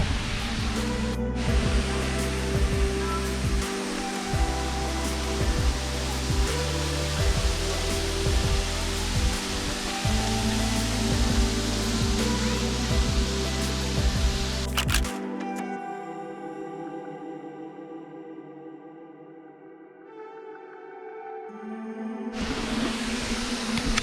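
A waterfall in Tropical North Queensland rushes with a loud, steady broadband roar for about fifteen seconds, then drops to a quieter, more distant wash before swelling again; no talking.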